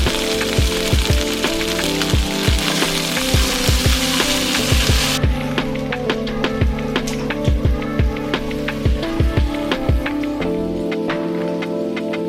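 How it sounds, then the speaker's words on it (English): Vegetables sauté in a hot pan with steady crackling sizzle, loud and close, punctuated by repeated sharp clicks and taps of a utensil against the pan throughout. "So I'm gonna saute these until they're nice and tender, not mushy or overcooked."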